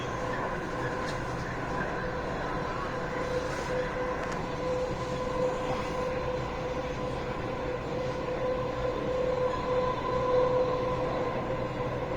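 Dubai Metro train riding between stations, a steady loud rumble of wheels and motor with a sustained whine, continuous throughout with no talking.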